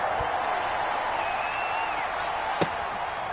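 Stadium crowd from a PS4 American football game between the New York Giants and the Tampa Bay Buccaneers, a steady broad roar with a faint whistle-like tone and one sharp thud.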